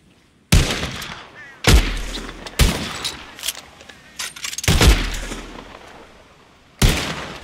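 Rifle and revolver shots ring out in Red Dead Redemption 2 as players fire at birds taking off from the ground: six loud, sharp reports at irregular intervals, each trailing off with a short echo.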